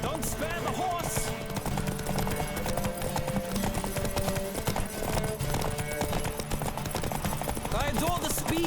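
Rapid hoofbeats of a galloping horse in The Witcher 3 game pound on continuously and up close, a dense rhythmic clatter mixed with other in-game noise.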